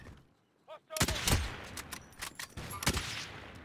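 Gunfire in Call of Duty: Warzone, a quick burst of loud, sharp shots with a few more scattered cracks after it, and some faint game noise underneath.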